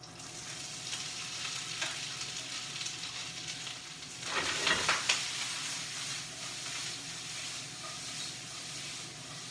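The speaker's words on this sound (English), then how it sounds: "we can go ahead and add all of our corn to our saute pan" Corn kernels sautéing in melted butter in a skillet for mac and cheese, giving a steady soft sizzle that swells into a brief louder crackling burst midway, then settles back to an even hiss.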